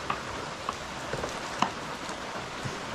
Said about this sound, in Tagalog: Sobrang tinding ulan.